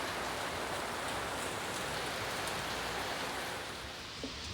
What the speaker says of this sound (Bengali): অনেক কম বৃষ্টি